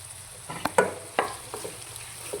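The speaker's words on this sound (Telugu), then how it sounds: "ఒకసారి బాగా కలుపుకొని మూత పెట్టేసుకోవాలి" Chopped ivy gourd with salt and turmeric is stirred in a pan, giving a few soft scrapes and light clatters over a faint frying hiss. No one speaks.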